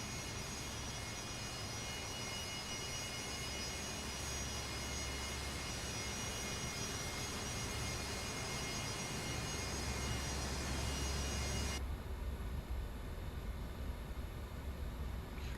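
Fokker F100 jet engines in Microsoft Flight Simulator 2024 give a loud, continuous whine over broadband roar, steady throughout; the high tones drop away sharply near the end while the rumble carries on.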